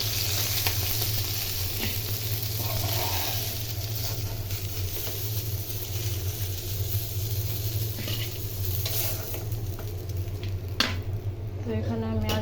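Rui fish frying in oil in a pan over a clay stove gives a steady, close sizzle and hiss with occasional stirring scrapes, continuous throughout and without talk.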